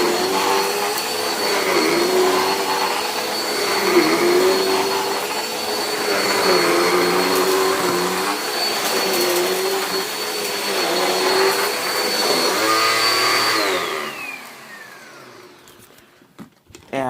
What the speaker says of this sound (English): I know the brush roll sounds kind of weird